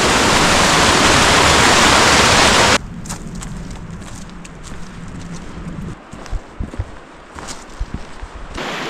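Pass Creek rushing through Washington's Olympic Mountains, a loud, dense roar of close water that abruptly drops to a softer, more distant flow, with footsteps and light knocks scattered over it.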